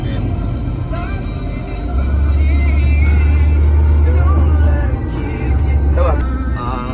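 A car's diesel engine rumbles loudly and low from close by, swelling to a heavier drone midway and again near the end, with muffled voices talking over it.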